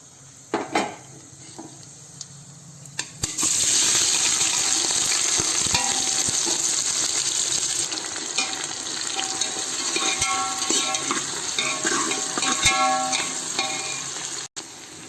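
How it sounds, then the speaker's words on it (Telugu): Whole cinnamon and cloves fry in hot oil and ghee for a vegetable biryani, giving a loud, steady sizzle after a sharp start, with a spoon scraping and clinking against the pan throughout. "కొంచెం బ్రౌన్గా వచ్చేంత వరకు కలపాలండి"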